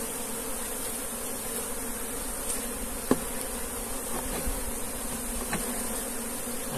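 A captured swarm of Africanized honeybees in a bucket hive hums with a steady, dense buzz throughout, and a few louder individual bees pass close by.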